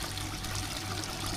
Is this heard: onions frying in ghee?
no